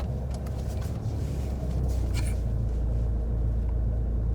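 A learner driver's car engine revving at low throttle while manoeuvring slowly during a driving lesson, a steady close rumble from inside the cabin.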